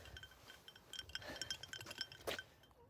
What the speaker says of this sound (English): It's the ice cubes.